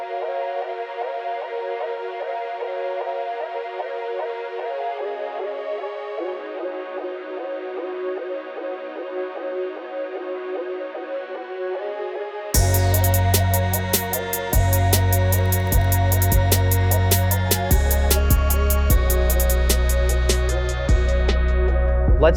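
Hip-hop song beat playing in full: a melodic intro of layered notes runs for about twelve seconds, then heavy bass and crisp drums come in and play loudly to the end.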